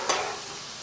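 Flour stirred with a big ladle in a heated pot while making the sauce for a chicken and potato gratin, a brief close scrape and rustle at the start, then a soft continuous sizzling hiss, with no talk.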